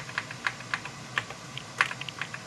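Computer keyboard keys clatter in quick, uneven bursts on a retro PC build running setup, about a dozen crisp clicks close by over a low background hum, with no voices.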